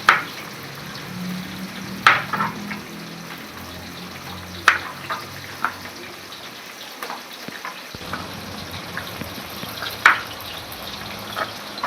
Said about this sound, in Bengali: মাছটা ভাজুক